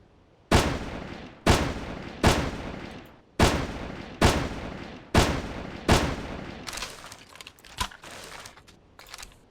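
Sniper rifle shots in the video game Carnivores Fallen Kings, fired from a crouch: six loud sharp cracks at roughly one-second intervals, each with a short ringing tail, then fainter scattered clicks.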